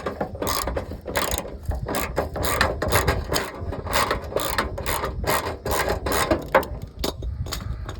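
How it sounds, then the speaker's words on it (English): A ratchet wrench with a 10mm socket on an extension turns out a bolt on the rear end of a Toyota Venza, giving steady rapid clicks in repeated bursts, close and loud, with no talking. "So I got my 10mm socket, as you see, with the extension. I'm going to remove this bolt first."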